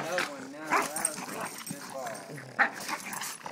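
Several Boston Terriers bark and yip in short bursts, with whimpers and growly noises mixed in, close by and excited, under ongoing human chatter.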